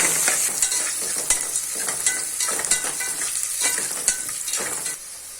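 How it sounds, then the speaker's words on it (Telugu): Chili and onions frying and stirring in a pan while cooking mushroom biryani, a steady crackling sizzle with repeated scraping strokes of a utensil, close and continuous, no talk. "ఇప్పుడు చిల్లీ వేసుకోండి. గోల్డెన్ బ్రౌన్ వచ్చేంత వరకు బాగా వేయించుకోండి."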